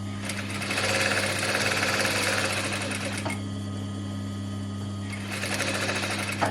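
A sewing machine stitches a vest seam in steady bursts, loud and close, with a short pause in the middle before the motor runs again; no one talks.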